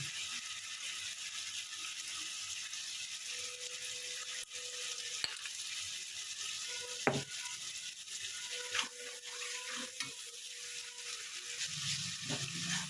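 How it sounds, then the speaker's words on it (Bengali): Spices and salt fry in a pan with a steady low sizzle, broken by occasional scraping and clinking from a stirring utensil. "একটু কষে নেব।"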